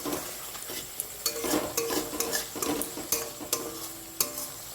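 Spice paste sizzling in oil in a pan for a Bengali bhetki fish recipe, stirred steadily with a utensil that scrapes rhythmically against the pan, close and continuous with no talk.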